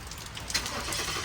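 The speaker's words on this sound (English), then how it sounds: "So let's start her up." Ford Mustang with a fault, starting up: a steady engine and starter drone with hiss, close and continuous through a brief moment, no talk.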